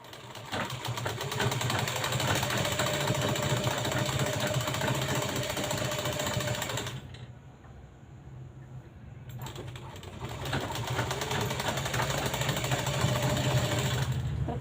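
A sewing machine stitching lace onto a sleeve runs with a steady close mechanical hum and whir, pausing briefly in the middle before resuming.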